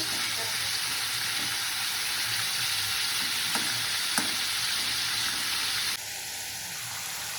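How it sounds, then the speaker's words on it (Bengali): Pointed gourd (potol) frying in hot oil with five-spice in a wok, a steady close sizzle and crackle broken by a couple of faint utensil clicks, ending with a brief higher tone over quieter frying. "এই যে আমাদের পটলগুলো ভাজা হচ্ছে"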